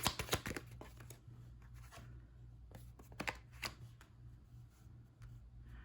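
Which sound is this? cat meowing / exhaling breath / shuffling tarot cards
shuffling tarot cards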